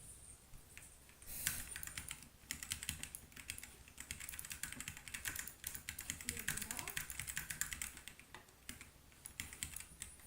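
Rapid clattering keystrokes on a computer keyboard, close and continuous in bursts, with a voice talking faintly during a live stream.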